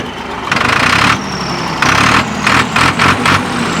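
A Farmtrac 60 tractor diesel engine turns over and revs, with several bursts of throttle over a steady running rumble, close and loud.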